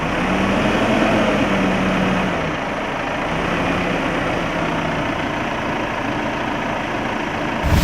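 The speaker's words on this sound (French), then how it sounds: "on vous a fait entendre le bruit d'un tracteur" A Valtra N113 tractor engine runs steadily at a low idle-like rumble, continuous and fairly loud throughout, with no voices.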